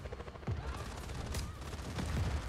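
Rapid bursts of gunfire in Just Cause 4 crackle through a loud, busy mix, with shots stacked over a constant low rumble and a few heavier thumps.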